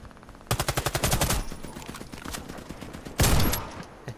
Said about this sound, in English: This shotgun is insane, man. It reaches so far.